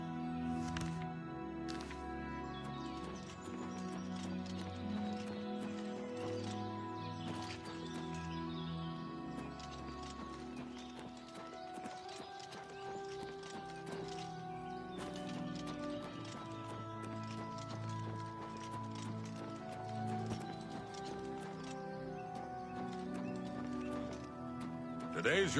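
Horse hooves clip-clop at a steady galloping rhythm in the video game Oblivion Remastered, with an occasional whinny, over ongoing game ambience and tonal background music for nearly half a minute.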